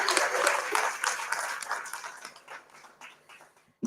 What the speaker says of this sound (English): Do you guys want to encourage me by giving me another clap?